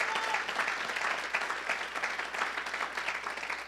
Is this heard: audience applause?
yes